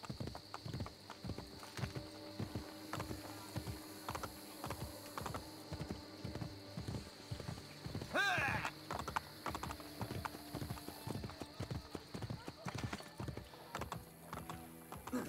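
Horse hooves clop in a steady rhythmic gait in Assassin's Creed: Brotherhood for the whole stretch, with a brief burst of noise midway and faint background ambience.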